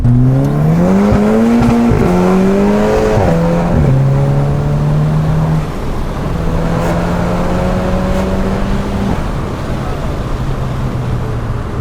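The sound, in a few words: Volkswagen Scirocco R Stage 2+ car accelerating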